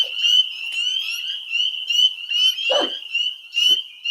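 A male spring peeper frog calls steadily, a continuous high piping trill running through the whole clip, near and fairly loud, with a few brief low bumps from handling noise.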